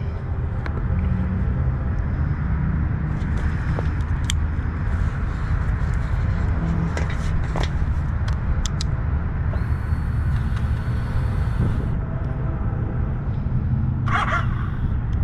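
A 2021 Triumph Street Twin 900 Bonneville motorcycle on a test ride, heard as a steady low engine rumble under constant rushing wind noise, with a few brief clicks and a short hiss near the end.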